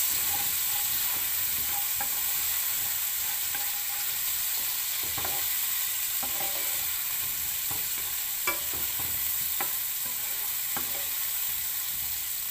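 Whole washed mushrooms and bacon cook in a single pot for a chicken chasseur, giving a soft, steady sizzle with scattered clinks and scrapes as the pan is stirred, all under a constant background hiss with no talking.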